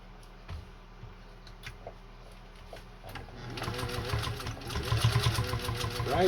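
A Singer 201-2 sewing machine stitches slowly over a thick denim seam on Levi's jeans, first with soft ticks and clicks, then a steady, louder mechanical whirr and rhythmic thumping through the second half.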